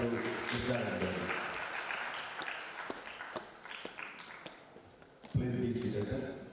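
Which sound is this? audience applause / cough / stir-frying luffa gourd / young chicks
audience applause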